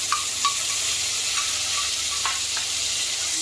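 Onion frying with spices in a pan while cooking stuffed masala parwal gives a steady bright sizzle, with a few soft stirring clinks and pops over it, close and continuous, with no talk.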